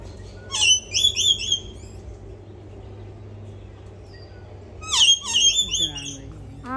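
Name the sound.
parrot squawking at a zoo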